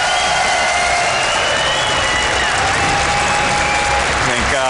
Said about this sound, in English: She might be hearing those cheers.